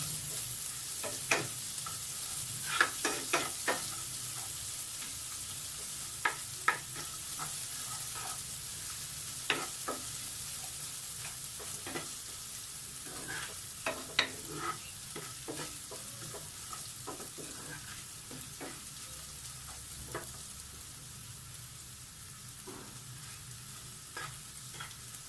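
Spices frying in a pan for a bitter gourd curry, a continuous sizzle broken by sharp scraping stirs, loudest in the first half and thinning toward the end, with no talking.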